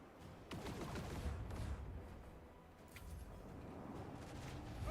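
Gun batteries firing in the space combat of the video game Rogue Trader, a dense, rumbling barrage of booming shots that stays loud and continuous with no voices.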